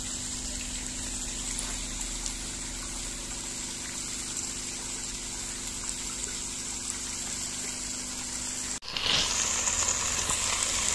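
Potatoes and vegetables sautéing in a pot for a cold-and-flu soup give a steady, close sizzle and low bubbling hiss throughout, with a brief clatter near the end as the sound shifts and brightens.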